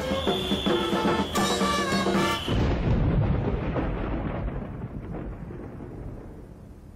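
A thunderstorm in Argentina, with a heavy crash of thunder that rolls on and slowly fades away, loud and then gradually quieter.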